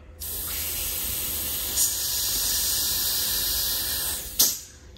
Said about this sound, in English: I'm gonna take my blow gun, try to blow through it again